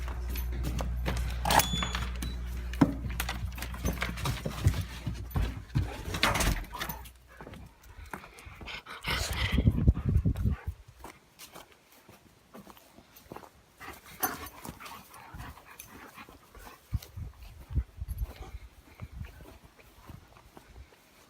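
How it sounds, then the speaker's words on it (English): Puppies and dogs bark, whimper and pant in a yard, sometimes close and loud and sometimes farther off, with scattered thumps and rustling in between. "Puppy dogs."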